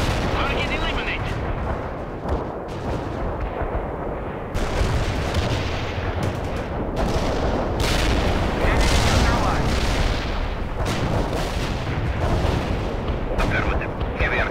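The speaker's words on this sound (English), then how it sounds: "Heavy artillery strike fire." Heavy artillery strike in World in Conflict on PC, a dense, continuous barrage of loud booming explosions and rumbling blasts rolling on without pause for the whole stretch.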